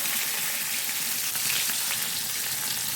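Boiled elephant yam with curry leaves and garlic frying in a pan in a home kitchen, a continuous dense crackling sizzle, close and steady without any talk.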